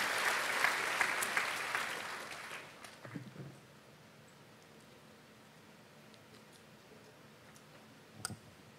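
A church congregation at a Sunday service claps for Jesus in a brief burst of applause that fades out after a few seconds, leaving quiet room tone and a few scattered taps.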